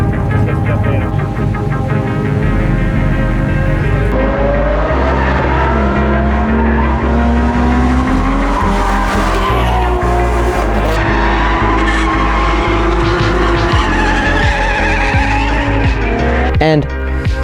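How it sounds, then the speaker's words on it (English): A drifting car screeches and skids with loud, sustained tire squeal and engine roar, heavily mixed under continuous music for the whole stretch. "if you were curious, that was drifting"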